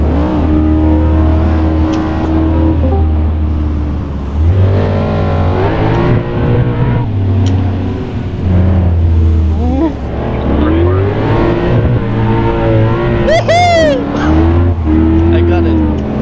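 Cars with six-speed manual gearboxes driving at a car meetup and cruise on mountain roads, engines revving up and dropping through gear changes, one passing close, with people talking over the engine noise.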